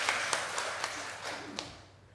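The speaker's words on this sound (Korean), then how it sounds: "제가 대신 박수 한번 쳐드립니다" Steady, evenly spaced hand claps, about six in a row, ring out during a Sunday morning church service, moderately close and gradually fading.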